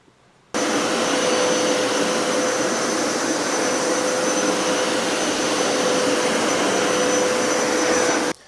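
Hoover-style home carpet cleaner running steadily with a loud, continuous motor and suction whine, close by and alone, starting abruptly and stopping at the end.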